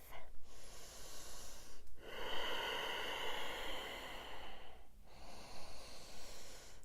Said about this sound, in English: Nice ujjayi breath.